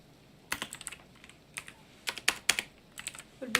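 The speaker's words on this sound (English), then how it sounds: "It would be so helpful if I could type the right keys" Typing on a computer keyboard during manuscript writing, soft clustered key clicks in short irregular bursts, close and quiet with no talking.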